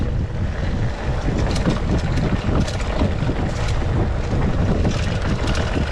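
Strong wind buffets the microphone on a mountain bike trail in Sariaya, Quezon, in a continuous low roar, with gusty rumbling and a faint rushing hiss throughout.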